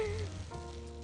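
Food frying in a pan in a home kitchen, a steady close sizzle that fills the clip under sustained tonal, music-like notes.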